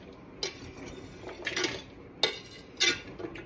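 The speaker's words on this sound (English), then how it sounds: "So you just put it in the pot." Ingredients for chicken noodle soup dropped into a cooking pot, giving a few clinks and clatters against the pot at irregular intervals, fairly close and moderately loud over a quiet kitchen background.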